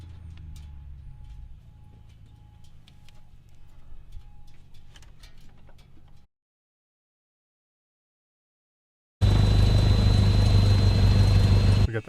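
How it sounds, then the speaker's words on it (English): A light airplane engine idles after a carburetor install, running at a low steady rumble near 600 rpm, then cuts out to a few seconds of silence before returning loud and close with a strong, even drone. "He's going to pull the idle up a little bit because it's idling at a little bit below 600"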